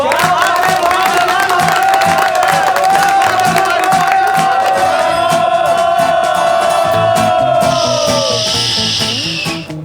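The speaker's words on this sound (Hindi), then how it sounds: "मेरे एजाज में तालियां।" A crowd cheers and shouts loudly for several seconds, dense voices and whistles rising together, then fading near the end.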